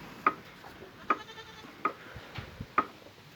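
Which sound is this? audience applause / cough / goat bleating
goat bleating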